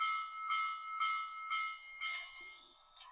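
A Soundtraxx sound decoder in an HO scale PRR Q2 brass hybrid model locomotive rings its bell in a steady clang about twice per second, bright and ringing, five strokes before fading out.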